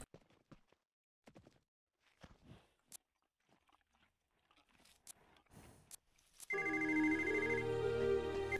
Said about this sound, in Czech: A máme teda zvednout ještě telefon